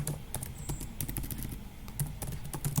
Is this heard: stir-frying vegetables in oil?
no